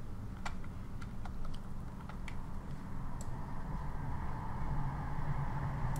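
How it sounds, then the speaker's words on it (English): Keys pressed on a computer keyboard, a few sparse, faint clicks spaced out over a steady low room hum. "I'm gonna hold down Control and press Print Screen"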